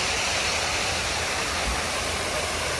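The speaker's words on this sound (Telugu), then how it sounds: "ఈ వాటర్ సౌండ్ అయితే ఇంకా ఫౌంటైన్ చాలా బాగా పీస్ఫుల్గా ఉందన్నమాట." A park fountain at Vizag airport, a loud continuous rush of falling water, dense and steady throughout with no talk.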